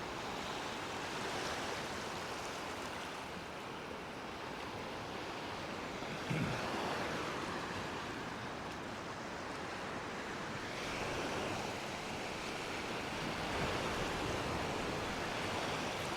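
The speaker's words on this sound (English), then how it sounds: "it looks like my friend Elijah might be catching a wave." Ocean surf rolls and washes continuously at a warm-water beach where people are surfing, a steady broadband roar with waves swelling and breaking, mixed with some wind rumble on the microphone and no voices.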